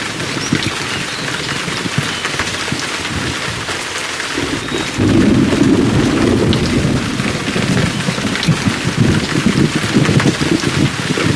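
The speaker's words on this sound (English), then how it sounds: "Lightning strike." Thunder from a lightning strike during a storm in the Emergency 4 firefighting game, a low rolling rumble swelling over steady pouring rain, loud and sustained with no voices.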